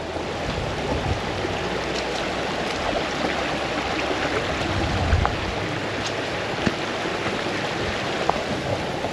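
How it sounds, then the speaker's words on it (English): Rainwater rushes and burbles steadily along a path, a constant close flowing sound with a few small splashes. "a lot of the paths are now turning into rivers,"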